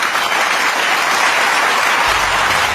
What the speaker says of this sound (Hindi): पूरा सभागार तालियों की गड़गड़ाहट से गूंज उठा